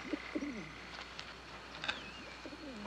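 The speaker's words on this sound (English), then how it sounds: "I hear the voice of a bird." A bird gives soft dove-like cooing calls, several short low coos in a loose pattern, fairly close and moderately quiet in a calm outdoor setting.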